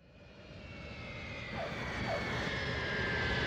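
A passenger airplane flies overhead, its broad engine roar swelling steadily louder and closer, with no voices.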